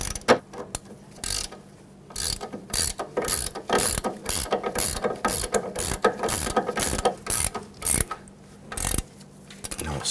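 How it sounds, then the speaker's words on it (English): A 15 mm gear wrench ratchets a sway bar link nut on a 2007-2017 Jeep Patriot, giving rapid repeated metallic clicks in bursts with short pauses, close and fairly loud, no talking. "Now we're using our 15 millimeter gear wrench on the nut and a number 5 Allen key"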